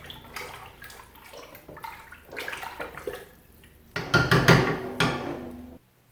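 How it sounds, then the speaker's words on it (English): Stirring lentil soup in a pot, scraping and knocking of a utensil against the pot with liquid sloshing, growing louder toward the end before stopping. "I'm going to stir this up a little bit."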